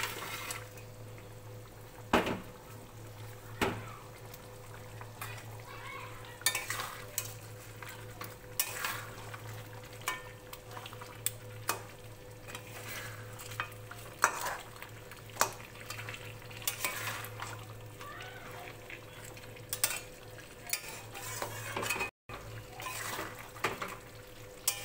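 Fried katla fish heads stirred into a simmering gravy in a pot, with a low bubbling bed under scattered spoon scrapes and sharp utensil knocks against the pan, continuing steadily throughout.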